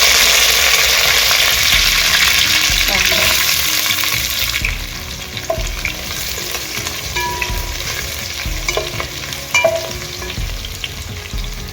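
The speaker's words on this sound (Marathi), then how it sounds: "त्याला चांगलं परतून घेऊया इथं बघा आपला कांदा पण चांगला परततो आलेला आहे" Onion sautéing in a pan with spices for Satara-style pavta (lima bean) rice, a steady loud sizzle with stir clicks and scrapes; the frying quiets a little midway but continues throughout, no talk.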